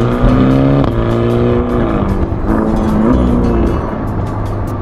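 A Ferrari Portofino's twin-turbo V8 sounds loud and close, its engine note climbing and falling through gear changes as the car drives on open roads in the Cotswolds.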